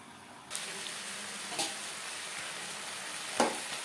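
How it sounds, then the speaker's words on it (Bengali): Rice and lentils for khichuri are stirred together in a pot, with three distinct scraping strokes standing out over a faint, constant hiss and no talk. "ডালের সাথে চাল বেশ ভালো করে মিক্সড করে দেব।"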